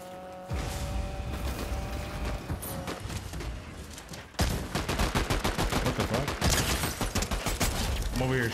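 Gunfire in Fortnite Chapter 5 aimed at trees: a few scattered shots, a brief pause, then dense rapid bursts of repeated shots, loud and close.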